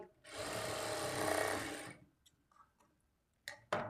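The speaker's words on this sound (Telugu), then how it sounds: "ఇప్పుడు ఇదే స్టిచ్ మీద ఇంకొక స్టిచ్ వేసుకోవాలి" A sewing machine runs in one close, steady whir for about two seconds while stitching a plain blouse, then stops. A few faint clicks and handling taps follow.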